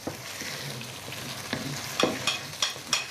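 Vegetables stirred and fried in a pan, with a steady sizzle and several sharp scraping stirs that grow louder and more regular toward the end, no talking.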